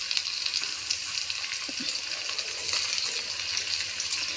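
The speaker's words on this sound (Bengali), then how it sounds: "সবজিগুলোই একটু আমি হালকা করে করে ভেজে নেব" Vegetables such as onion greens frying lightly in oil in a home kitchen, a steady close sizzle with faint crackles and stirring, no talking.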